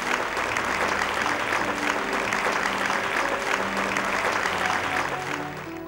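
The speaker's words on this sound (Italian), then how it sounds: "ancora applauso del pubblico del Concordia" A theatre audience at an awards show at Teatro Concordia applauds steadily, a dense, loud wash of clapping that holds throughout and eases slightly at the end.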